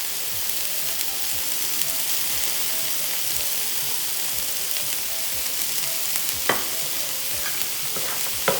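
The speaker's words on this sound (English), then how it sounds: "While my vegetables are sauteing" Vegetables sauteing in a sizzler pan with salt and crushed pepper, a steady close hiss of frying with occasional stirring clinks and scrapes, no voices.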